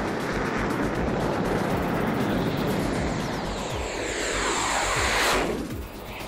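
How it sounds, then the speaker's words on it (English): An airplane taxis toward takeoff, its engines producing a loud steady roar with a broad rushing noise, swelling slightly near the end before easing off. "the plane taxis and the command center prepares for takeoff"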